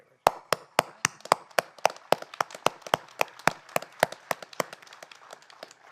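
Hand clapping at a Golden Rule Day 2017 gathering: crisp, evenly spaced claps close by, about twenty in six seconds, steady and rhythmic with no talking.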